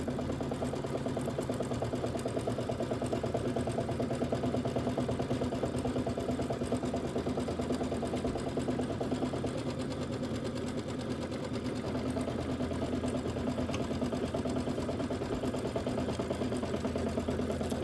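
An embroidery machine stitches quilting along a hooped border, a steady close mechanical chatter with a low hum running unbroken and evenly, no voices.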